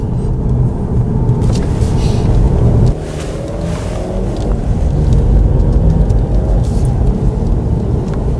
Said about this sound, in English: Really smooth acceleration, and we already know what this will do if we put our foot down on it